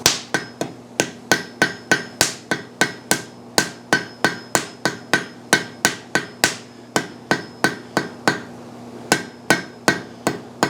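Blacksmith's hammer striking a forge weld at welding heat to close a cold shut on an anvil: a long run of loud, evenly spaced metallic blows with ringing overtones, briefly pausing near the end before resuming.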